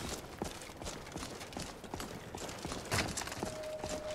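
A horse's hooves clip-clop at a steady walking rhythm in a modded Skyrim video game, a quiet series of regular knocks against soft background ambience.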